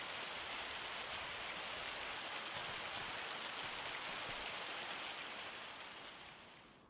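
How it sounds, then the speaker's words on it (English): Heavy hail in a farm sim game, a constant, close rushing patter of countless tiny strikes that holds steady before easing off slightly at the very end. "A lot of hail."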